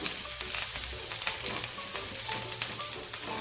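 Curry leaves and turmeric sizzle in hot oil for kat vada masala, a steady bright crackling frying hiss with small spatters and faint stirring, close and alone without talk.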